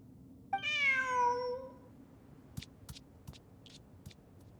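A single drawn-out cat meow in the video game Genshin Impact rises clearly, followed by a series of short, sharp clicks spaced through the rest of the quiet clip.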